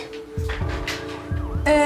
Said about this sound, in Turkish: Hocam ikinci bir ambulans geliyor.